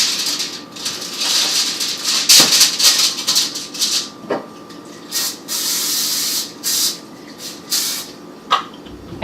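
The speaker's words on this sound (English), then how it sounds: "I'm going to spray down the foil." Cooking spray hisses onto kitchen foil in a series of close, loud bursts of varying length separated by short pauses, with no talking.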